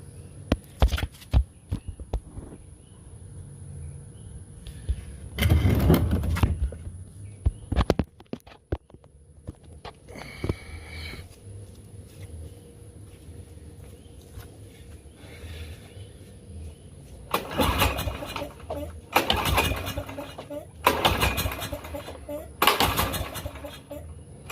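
Five pulls on the starter rope of a Craftsman 6.5 hp push mower that won't start, each a short ratcheting zip in quick bursts, with quiet handling noise between them and no engine catching.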